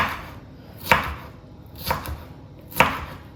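A knife chops mushrooms on a cutting board in a home kitchen, three sharp, evenly spaced thuds close up, with no talk.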